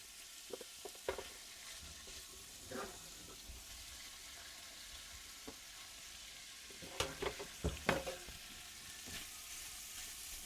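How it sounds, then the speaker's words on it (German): Meat for bigos, a Polish sauerkraut stew, frying gently over low heat in a large pot, a faint soft sizzle with occasional stirring clinks and scrapes, quiet throughout. "Und das lassen wir schön langsam etwas mit anbraten."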